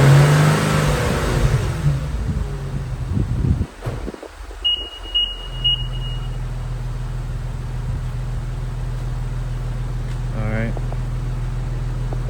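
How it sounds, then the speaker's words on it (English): A car engine idles steadily with a low hum, rises in a brief rev and settles back while an alternator is tested with a Foxwell BT-780 battery and alternator tester. A few short electronic beeps sound, and speech comes in early. "I gotta go in the car and rev the engine."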